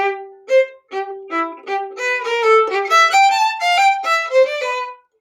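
A violin plays the Super Mario theme with short, detached staccato bow strokes, a quick bright melody of separated notes, close and clear with no voices.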